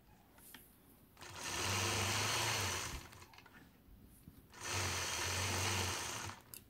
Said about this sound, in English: I'm going to stitch around the outside of these blocks